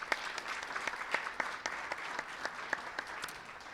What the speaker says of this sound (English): Another round of applause for Trustee McKinley.